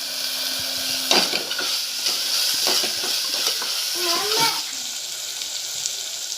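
Chickpea curry with coriander powder, garam masala and salt being stirred in a hot pan, making a soft sizzle broken by several scraping, knocking spoon strokes, close by, with a voice briefly audible.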